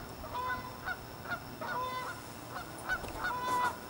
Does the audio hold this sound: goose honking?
yes